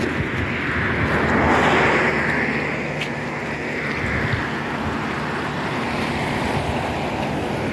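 Rainwater flows steadily in Saudi Arabia with a continuous broad rushing wash, fairly close and even, with some wind noise and no voices.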